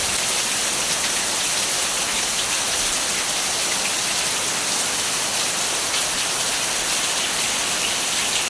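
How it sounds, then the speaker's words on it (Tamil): Heavy rain falls steadily outdoors, a dense, even hiss of drops on surfaces that holds at the same level throughout, with no voices. "பாருங்க எப்படி மழை பெஞ்சு கொண்டிருக்கண்டு."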